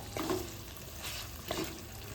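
Chicken with sugar sizzling steadily in a pan for chicken pulao, stirred a couple of times with soft scraping strokes over a continuous, moderately quiet frying hiss.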